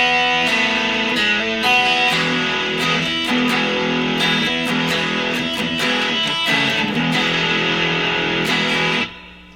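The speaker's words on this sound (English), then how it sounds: "let me show you how I play the main riff of the song, and it goes something like this." An overdriven electric guitar plays the main riff of a song, thick distorted chords and rhythmic chugs for about nine seconds, loud and alone before ringing out.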